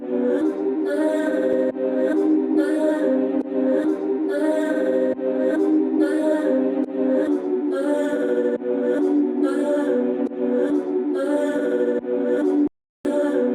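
A warped, wobbling synth melody for a UK drill beat plays continuously in repeating phrases, with a brief dropout near the end; no voices.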